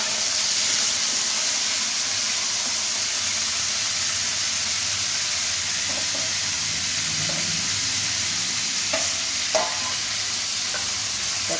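Bitter gourd pieces frying in a pan after a tempering with curry leaves: a constant loud hissing sizzle throughout, with a few light clicks of stirring near the end.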